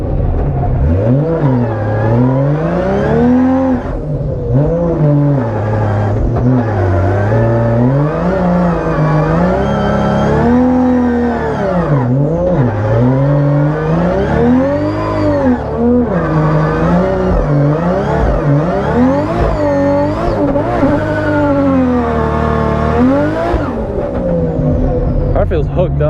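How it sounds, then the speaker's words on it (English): A BMW E36 race car revs hard during a burnout at a track, its engine note rising and falling in repeated surges with tire squeal mixed in, loud and close throughout. "Alright, burnout time."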